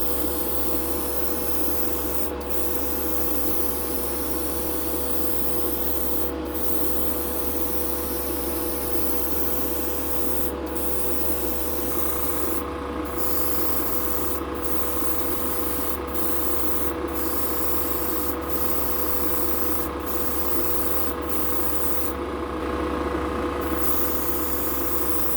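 An airbrush sprays unthinned Gaahleri Kaleido Colorworks paint with a continuous close hiss, cut by several brief pauses and ticks as the trigger is released and pressed again.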